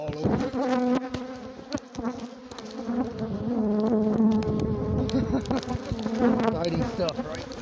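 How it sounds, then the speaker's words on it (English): Swarm of aggressive Africanized bees buzzing densely around a hive heavy with honey, a loud continuous droning hum with individual bees whizzing close by; a person speaks briefly under the buzz. "Africanized bees look great, don't they?"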